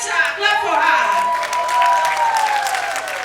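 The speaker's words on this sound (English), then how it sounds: "Clap for her." Crowd clapping at a gathering honoring a queen, loud and sustained for a few seconds, mixed with chatter and cheering voices over the applause.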